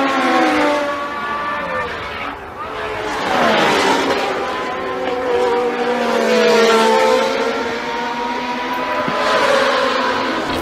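Formula 1 race cars on the last lap of a Grand Prix, engines screaming as they sweep past one after another with rising and falling pitch, loud over a broad roaring background.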